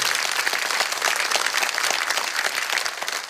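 Dense, steady applause from an audience at a Turkish association gathering, many hands clapping together at full strength throughout with no talk over it.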